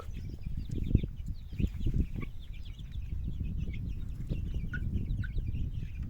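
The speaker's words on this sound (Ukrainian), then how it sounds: "сьогодні курчата вони такі активні" Young chickens cluck and peep in a farmyard with grass, ash and sand, their calls scattered and fairly close over soft outdoor background noise, with no talk.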